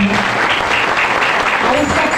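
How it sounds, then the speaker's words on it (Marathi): Audience at a Marathi kirtan breaks into loud, dense applause from many hands clapping continuously, filling the hall close and sustained for the whole stretch. "त्यांच्यासाठी एकदा जोरदार टाळ्या झाल्या"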